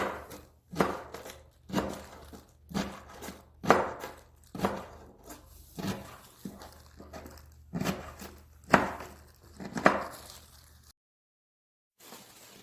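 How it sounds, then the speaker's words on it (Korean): A knife chops kimchi on a cutting board in about a dozen steady, evenly spaced thuds, close and clear with no talk, ending in silence. "김치를 썰어볼게요."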